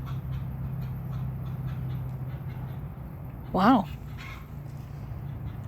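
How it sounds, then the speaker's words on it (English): Betsy the hen lets out a single loud, brief squawking cluck midway, standing out over a steady low background hum; a voice speaks briefly. "that chicken's really meaning whatever she's saying."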